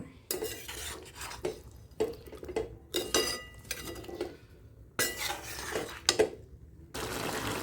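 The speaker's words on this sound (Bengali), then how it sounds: "এইবার ভালো করে মিশিয়ে নেব" A spoon stirs pumpkin curry (kumro chhokka) in a metal pan, giving irregular scraping and clinking strokes in bursts with short pauses, fairly soft and close, with no voices.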